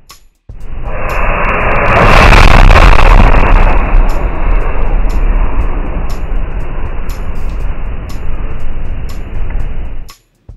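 A loud whooshing burst erupts as dust ignites on candles inside a pumpkin, roaring for several seconds, then rumbling on steadily before cutting off abruptly.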